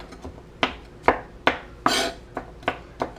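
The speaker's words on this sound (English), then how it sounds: "You're just going to pretty much mince the garlic." A knife chops garlic on a board in sharp, fairly regular strikes, about eight knocks over a few seconds, close and clear with no talk.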